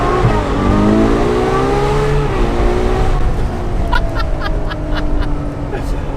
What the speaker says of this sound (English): I'm just convinced that naturally aspirated V12s are basically the best engines in the world.